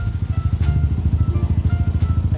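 A second Yamaha Aerox V2 scooter engine runs close up, a steady low rhythmic idle thrum with a couple of faint knocks and no talk over it.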